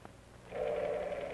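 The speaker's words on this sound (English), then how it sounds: "making sure your finger firmly touches the finger stop with each pull of the dial." Rotary telephone dial turned and released, a brief click followed by a sustained buzzing whir as the dial spins back, close and clear with no voices.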